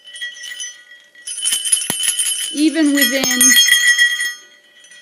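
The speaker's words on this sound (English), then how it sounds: "Now that's one 40 millimeter bell, excuse me. And this is another 45 millimeter bell." Two small sand-cast metal bells, one 40 millimeter and one 45 millimeter, ring close by with bright sustained tones and quick jingling strikes, while someone talks over part of the ringing.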